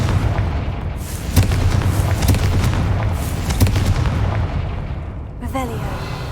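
Booming fiery blasts from the Confringo fire spell in the Hogwarts Legacy video game, heavy repeated explosive impacts filling most of the clip, loud and close amid battle noise, then fading near the end.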